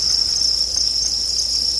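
Thousands of crickets chirp in a cricket farm bin, a dense, steady, high-pitched trill that holds constant and loud with no pauses and no voices.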